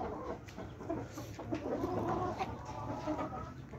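An Aseel hen clucks and calls repeatedly, close by, with a few louder squawks over a farmyard background; no one speaks.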